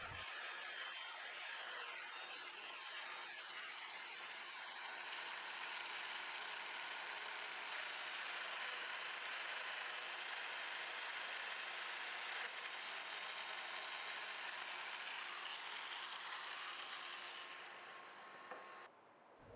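Festool Domino joiner cutting mortises in tabletop wood, a steady high-pitched motor whir with grinding cutter noise, continuous and fairly faint, ending abruptly.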